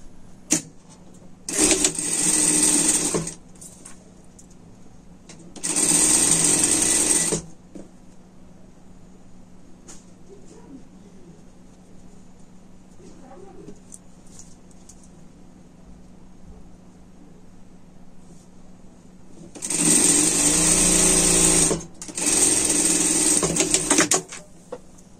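Machine stitching along a sweater side seam comes in four loud runs of steady mechanical whirring, two near the start and two near the end, with a long low-level lull between them and no talk.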